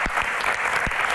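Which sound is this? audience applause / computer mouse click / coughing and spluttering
audience applause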